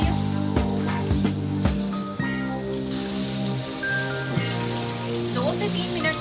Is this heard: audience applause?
no